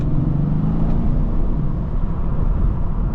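Mercedes E63s AMG W212 with its 5.5L biturbo V8 pulling hard after a downshift to second in the 7-speed, a steady, loud low rumble heard from inside the cabin, alone with no talk.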